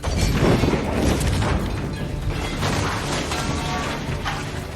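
A loud, heavy bomb explosion in an action film blasts out at once and then rolls on as a dense, crashing roar with debris-like rumble, no voices over it.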